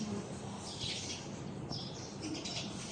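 Young sparrows chirp outdoors as rescued fledglings are released back to their parents, giving short, fairly faint high tweets in scattered bursts over steady background noise.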